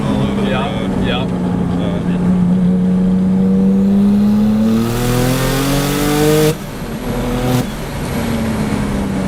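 A 1000whp Porsche Turbo accelerates hard in third gear with a loud, rising engine roar heard from inside the car. Its pitch climbs steadily, then drops sharply at a gear change and drops again shortly after.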